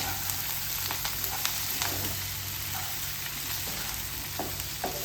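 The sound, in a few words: bitter gourd being stirred and fried in a pan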